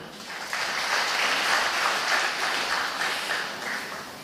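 Audience applause at a silver-jubilee celebration event, a dense, steady wash of many hands clapping at close range, sustained evenly throughout with no voices.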